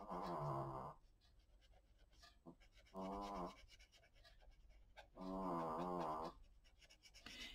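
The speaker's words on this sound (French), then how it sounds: "Ah oui, ça ronfle sec." A pet snores in slow, regular rumbling breaths, three loud buzzing pulls with quieter pauses between them, close by over a faint room hum.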